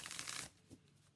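Tarot cards of the Modern Love Tarot deck riffle in a quick close shuffle lasting under half a second, then a faint softer slide of cards.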